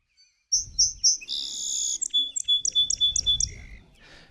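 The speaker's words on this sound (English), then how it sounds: "here's the song sparrow" Song sparrow singing up close: three opening notes, a buzzy trill, then a quick run of clipped chirps, over a low rumble of background noise.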